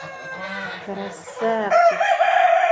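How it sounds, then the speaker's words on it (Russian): A rooster crows close by, a rising, strained call that ends in a loud drawn-out cry, with a brief spoken word at the end. "сейчас, наверное, тоже будет кукурекать"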